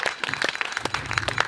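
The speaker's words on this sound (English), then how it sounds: "can I have a big, big warm applause for Sondre Rasch?" Brief burst of audience applause greeting the CEO and co-founder of SafetyWing as he comes on at a remote-startup talk, dense clapping filling the short moment with no voices over it.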